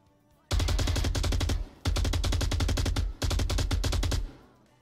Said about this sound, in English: I might have shot the guy at the end by accident.